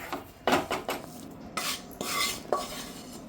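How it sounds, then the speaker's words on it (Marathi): Roasted gram flour for besan ladoo scraped out of a pan into a wide plate, heard as close rasping scrapes and a few metallic knocks of a spoon on the pan, with no speech. "आता हे मी पीठ एका परातीमध्ये काढून घेते"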